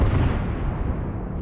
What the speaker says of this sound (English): At least 5 explosions occurred over such a short distance.